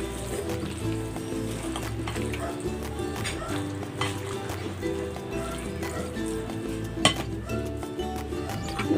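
A spoon stirs buko pandan salad of gelatin, small sago pearls and young coconut in a bowl, with soft wet squelching and occasional clinks against the bowl, plus one sharper knock near the end.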